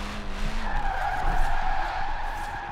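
A 1968 Abarth 595 with 667 horsepower and 519 kg does a tire burnout in Forza Horizon 4, a steady squealing skid held over a low engine drone for a few seconds.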